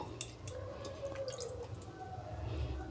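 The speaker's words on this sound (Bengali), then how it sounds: "এবারে জল দিয়ে দেব" Water is sprinkled gently by hand over soil freshly sown with fenugreek seeds, making faint, scattered drips and soft patters at close range in a quiet setting.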